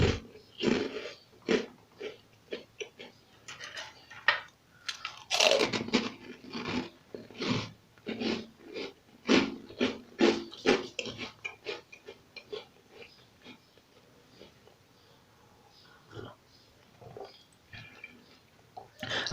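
Repeated loud, close crunches of someone biting and chewing crisp oven-toasted bread with oregano butter, in an irregular rhythm that slows and fades toward the end.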